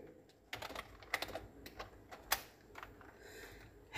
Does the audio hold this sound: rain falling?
no